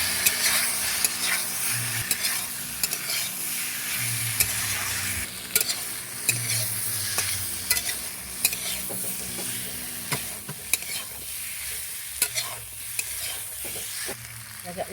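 Fried potatoes stirred into spiced oil in a curry pan, with a steady sizzling frying hiss and repeated scraping stir strokes throughout, close and continuous.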